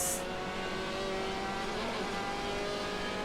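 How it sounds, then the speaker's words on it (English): A Ferrari GT race car in a racing video game at the Brazil round of a GT series, its engine droning steadily at speed with tonal harmonics, fairly quiet and continuous for a few seconds, no voices. "Let's just have a listen to this Ferrari actually, just different engines out of the BMW from before."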